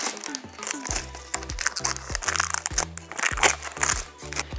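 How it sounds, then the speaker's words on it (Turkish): Plastic packaging bags crinkling and rustling in repeated bursts as they are pulled off the parts of a new Redroad V17 cordless vacuum cleaner, close and fairly loud, with a low tonal hum running under the crackle. "Şunların falan poşetini çıkaralım."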